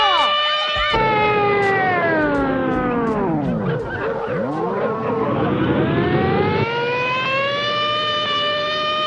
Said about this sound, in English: The ambulance has picked up Charlie Brown and the Masked Marvel!